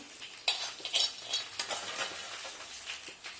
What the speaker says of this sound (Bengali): এবার আমি এর ভিতর দিচ্ছি ধনিয়া, আস্ত ধনিয়া